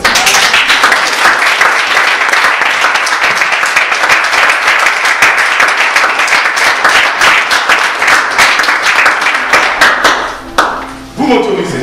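A church congregation applauding for the Lord, a dense, loud sustained wave of clapping from many hands that thins out near the end, with a voice briefly audible as it fades.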